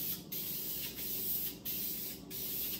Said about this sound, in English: Next, I just gotta spray the print with primer.